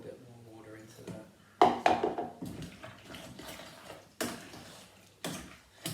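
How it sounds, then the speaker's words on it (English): Water poured into a saucepan of mashed hawthorn berries, with splashing, clinks of utensils and pan knocks in irregular bursts, and a person talking throughout. "I might just add a little bit more water into that."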